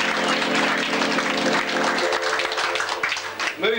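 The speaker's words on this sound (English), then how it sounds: "give the whole table another round of applause." An audience on a river cruise ship on the Murray River, South Australia, in the late 1970s claps in dense, steady applause that thins out toward the end, with voices mixed in.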